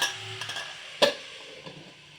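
Bottle gourd boti curry being stirred in a pan: a soft sizzle under a few light scrapes and one sharp metallic tap of the spoon against the pan, close by, with no talking.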